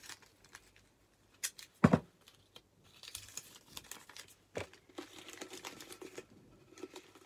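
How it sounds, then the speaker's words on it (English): Paper crumpling and crinkling as it is folded and wrapped around a tin for a garden upcycling project, in a few scattered bursts with quiet gaps between, close and fairly soft. "And you want to be folding it down, wrapping it up like a little present."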